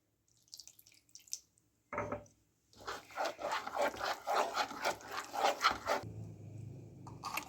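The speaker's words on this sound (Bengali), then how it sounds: "জল দিয়ে আবার ফেটাচ্ছি।" Cauliflower popcorn batter is whisked with added water in a bowl, a few short scrapes and then a run of quick, rhythmic wet whisking strokes up close, followed by a brief pour.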